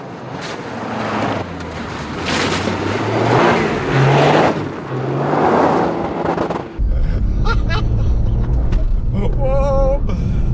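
Toyota GR Yaris four-wheel drive car accelerating hard, a loud engine roar rising under excited talk, then a steady high drone with wind and road noise as speed builds.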